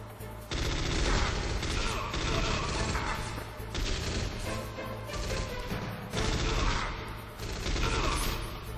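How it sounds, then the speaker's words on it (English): Sustained gunfire from the PS1 video game Metal Gear Solid, a dense, loud fusillade of rapid shots running continuously with game music and effects underneath. "I just shot you so much."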